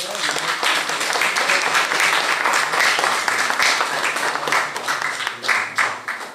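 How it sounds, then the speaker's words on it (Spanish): Audience applause at a conference held for a TecNM campus anniversary in Tlahuitoltepec, a steady round of clapping from a crowd filling the whole stretch with dense, close patter. "Un aplauso para el compañero."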